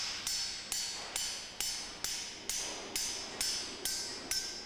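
A hand hammer striking aluminum sheet, 2.5 to 6 millimeters thick, shaped into a Shinkansen bullet train nose, ten sharp metallic blows in an even rhythm, each ringing briefly before the next, close and alone.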